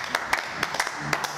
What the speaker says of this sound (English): Can we get a round of applause for Nate?